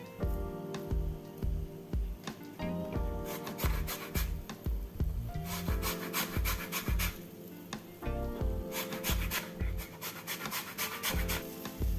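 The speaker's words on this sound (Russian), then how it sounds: "натираю цедру одного лайма" Lime zest is grated in a kitchen for Thai-style turkey with peppers and coconut milk, making rhythmic rasping strokes in quick succession with a steady tonal layer underneath.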